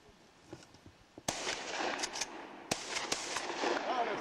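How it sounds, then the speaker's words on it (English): A Benelli pump shotgun fires at thrown clay targets at an exhibition, with several loud, sharp reports in quick succession, the first after a quiet lead-in, each trailing into an echoing rumble. "That is a very fast handling pump shot."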